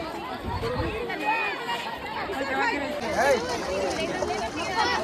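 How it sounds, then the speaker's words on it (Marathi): Dense crowd chatter at the Ramtirth temple fair beside the river in Ajara during Mahashivratri, many overlapping voices forming a steady, close babble with no single speaker standing out. "भरपूर गर्दी आहे इकडे"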